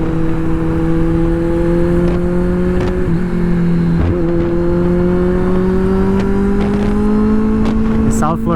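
A liter-class motorcycle engine drones loudly and steadily while riding out of a garage in Miami, with rising pitch under acceleration and wind buffeting, and someone talking over it throughout.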